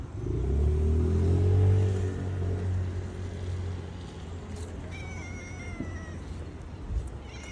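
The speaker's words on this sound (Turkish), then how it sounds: "sanki yavru kedi sesi duyuyor" A kitten meows under a loud low engine rumble, with traffic noise throughout and a few higher cries later on.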